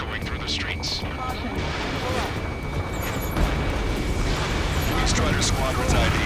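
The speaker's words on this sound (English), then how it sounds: "Gunfire and the roar of jets echoing through the streets." Ace Combat 7 jet combat game: a dense, continuous rumble of jet roar with scattered gunfire and booms, loud and steady throughout, mixed with faint radio chatter.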